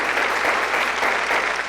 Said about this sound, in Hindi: एक बार जोरदार तालियां होना चाहिए हमारे इस ग्रेट लीडर्स के लिए